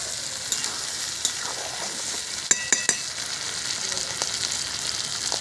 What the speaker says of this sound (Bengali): মাছের তেলটা কিন্তু দেখুন প্রায় ভাজা ভাজা মতো হয়ে গেছে।